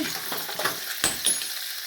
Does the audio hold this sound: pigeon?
no